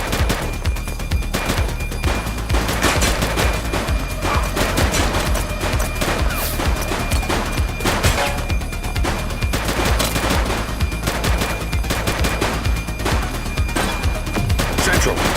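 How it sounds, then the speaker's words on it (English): Sustained gunfire in the police game The Precinct, loud, dense bursts of rapid shots and automatic fire crackling continuously for the whole stretch, with no pauses. "He's shooting!"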